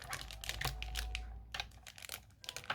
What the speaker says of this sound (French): je vais venir couper mon petit plastique